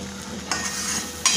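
Eggs for anda bhurji sautéing in a pan, a continuous close sizzle with a couple of quick stirring scrapes, no talk.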